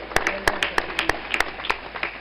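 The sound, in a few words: audience applause for a young girl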